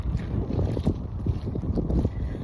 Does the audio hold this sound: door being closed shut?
no